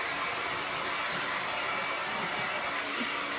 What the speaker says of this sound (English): it's more powerful than any other blow dryer I've ever had